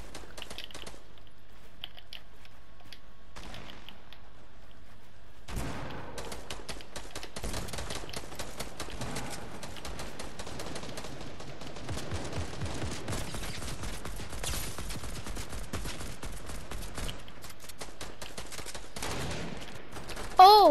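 Gunfire in Fortnite Chapter 2 Season 5, played on PlayStation, comes as a long stretch of faint, dense, rapid crackling shots that mostly hold steady, with a louder burst at the very end.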